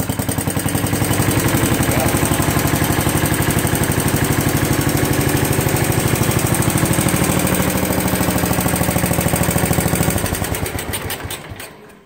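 A 1967 John Deere 112 round-fender garden tractor engine runs steadily and loudly up close with a constant chugging beat, then winds down and sputters over the last two seconds.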